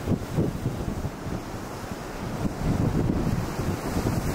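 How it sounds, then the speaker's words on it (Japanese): Rough, wintry Sea of Japan waves surge along the Hokkaido coast while strong wind buffets the microphone, giving a loud, churning rumble that swells toward the end. "荒々しい日本海ではありますが"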